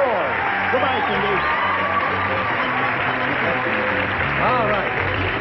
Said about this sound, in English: That's nice of you to applaud Cindy as she goes off.